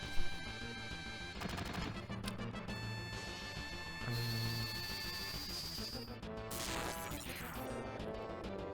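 Bolt thunder spell attack in Final Fantasy VII (1997): crackling electric bursts and sharp zaps ring over layered synth tones, with a bright sweeping discharge around the middle and a final crashing strike, steady and game-loud throughout.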